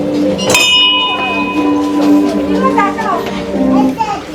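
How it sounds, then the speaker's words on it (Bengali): A bell on a prayer wheel at Tawang Monastery strikes once as the wheel turns and rings on with a slowly fading tone, while children chatter and play nearby. "যতবার ঘোরাবেন ততবার ওই ঘন্টাটা বাজবে আর ওই সাউন্ডটা শোনা যাবে"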